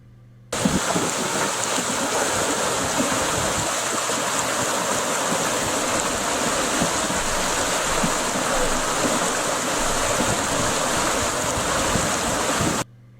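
Loud, steady rushing of a river wave churning around a canoe, a dense close roar of turbulent water that starts abruptly and runs without pause.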